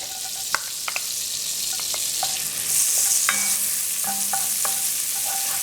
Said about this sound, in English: I'm just adding some piece of golden ray butter to that, and then I'm adding my chopped onion, pimento, and garlic.